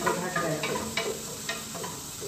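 Chopped onions frying and sizzling in hot oil for rice, with a steady hiss and a few scraping stirs of a spoon, close and alone without any talk.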